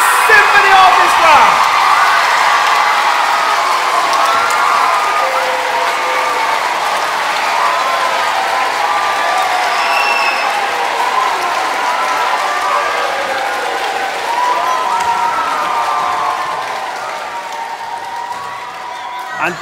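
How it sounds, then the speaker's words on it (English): A concert audience gives loud, sustained applause with some cheers and whoops for a symphony orchestra, and the clapping slowly fades over about twenty seconds. "could you please give the most enormous round of applause to Gavin Maloney"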